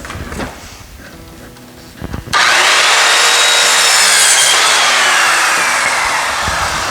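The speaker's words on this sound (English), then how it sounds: "Now that we have all of our studs measured, let's go cut them." A saw cuts wooden wall studs during interior wall framing. After a quiet start, a loud, steady, close-up cutting roar begins a couple of seconds in and holds to the end.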